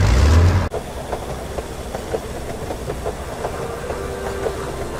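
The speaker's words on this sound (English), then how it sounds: "The transport train." After a brief loud burst, a transport train in the video game Henry Stickmin rumbles steadily past with a rhythmic clickety-clack of wheels and a low mechanical drone.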